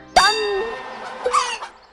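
Someone is struck and a bell-like ding rings out, a bright metallic strike that fades away, then a second, weaker ring follows shortly after, both close and fairly loud.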